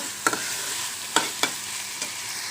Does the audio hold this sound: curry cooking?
yes